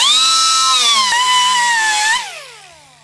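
A power tool whines at a steady high pitch while smoothing the end of a propeller strut on a Pearson 323 sailboat, close and loud, then winds down and fades over the last second.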